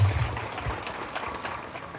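Crowd applause at a gathering of villagers, a brief burst of many hands clapping, somewhat distant and muffled, fading slightly over about two seconds.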